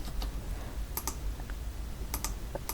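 A computer keyboard is used for the Ctrl+S save shortcut in Photoshop CC 2021. A few pairs of quick, crisp key clicks sound close by over a faint low background hum.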